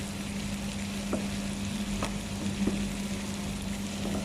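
Garlic sautés in a pan for beef steak, a steady moderate sizzle over a low hum, with a few soft knocks from stirring and no talking.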